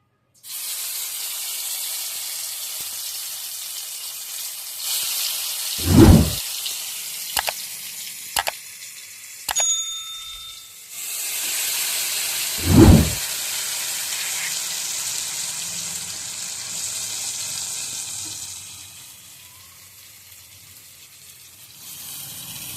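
Raw jackfruit pieces dropped one by one into hot mustard oil on a switched-off stove give a broad spraying sizzle, with a few sharp thuds and clinks as pieces land, then the hiss fades toward the end.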